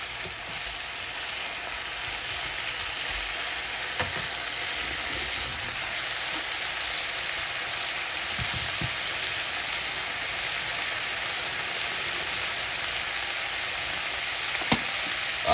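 Turkey gizzards sizzle in a hot wok in a steady, continuous fry, with occasional soft scrapes and clicks of stirring over the constant crackle.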